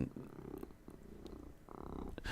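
A house cat purrs close by, a soft continuous rumbling drone with slight rhythmic pulses, fairly quiet.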